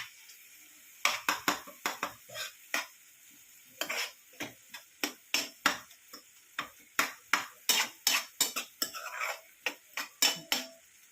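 Ladle scraping and clinking against a pot while fish curry is stirred, a steady run of short metallic knocks and scrapes at a fairly even rhythm, close and moderately loud with no talking.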